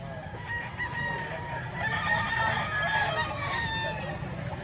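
Rooster crowing, an unhurried, drawn-out call with a wavering, held tone, set against a steady murmur of background chatter and farmyard noise.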